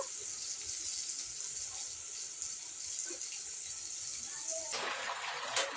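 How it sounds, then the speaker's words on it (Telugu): Water pours steadily into a cooking pan of curry with ginger garlic paste and coconut powder, a continuous close rushing gush for about six seconds that brightens near the end, with faint speech underneath. "ఇప్పుడైతే తగినన్ని నీళ్ళు పోస్తున్నా"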